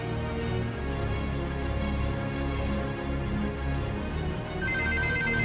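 Ringback tone of an outgoing phone call, a steady repeating electronic ringing pattern heard up close, with a brighter beeping tone joining near the end and no one speaking.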